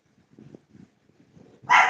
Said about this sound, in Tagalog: Dinig na dinig yung tahol mo